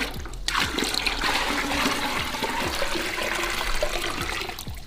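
Water pours steadily into a pail for an at-home biceps curl workout, a loud, continuous close rush and splash with no pauses, heard alone.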